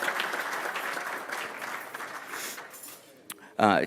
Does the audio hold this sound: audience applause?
yes